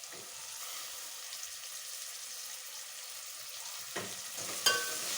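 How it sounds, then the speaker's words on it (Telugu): Fenugreek leaves hit hot oil for chicken biryani, producing a steady bright sizzle with a couple of stirring clatters toward the end, and no talking. "మెంతికూర వేసుకుందాం."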